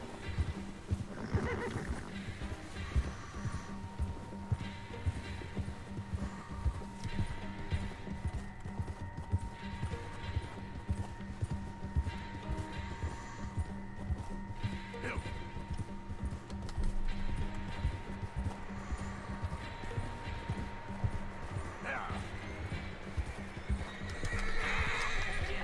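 Horse from Red Dead Redemption 2 whinnying loudly, with galloping hoofbeats and game background sounds running throughout.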